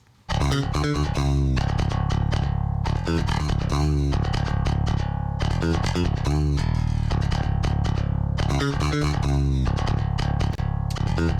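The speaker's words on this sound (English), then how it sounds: "So clean, our bass sounds like this." A clean, undistorted bass guitar riff in Double Drop C tuning plays loud and steady, with rhythmic plucked notes and sustained low tones throughout.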